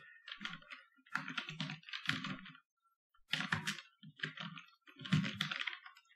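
Programming code being typed on a computer keyboard, steady bursts of close, quiet key clicks in short runs separated by brief pauses.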